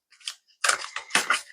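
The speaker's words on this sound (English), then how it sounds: "While I'm shuffling" Tarot cards being shuffled up close, a quick series of crisp papery riffles and snaps in two or three short bursts.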